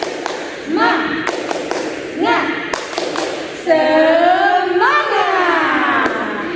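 Children at a Sunday school service in Bandung perform the 'tepuk semangat' clap routine, a few separate bursts of rhythmic clapping and thumps alternating with chanted voices.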